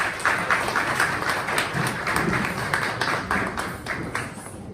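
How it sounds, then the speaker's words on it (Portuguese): An audience at a book launch applauds for Leandro, with quick overlapping claps blending into a steady wash that holds for several seconds and eases slightly toward the end. "Palmas para o Leandro."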